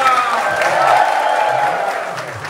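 An audience claps together in a brief burst of dense, crackling applause that swells and then tapers off over a couple of seconds.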